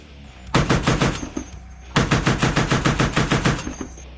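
Two long bursts of rapid automatic gunfire, loud and sharp, separated by a brief pause.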